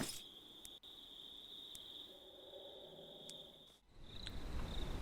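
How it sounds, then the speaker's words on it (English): Crickets chirp at night in Minecraft with a sound mod: a faint, steady high-pitched trill runs continuously, with a low background hum and a brief dip near the end. "Now that night's fallen, you can hear crickets."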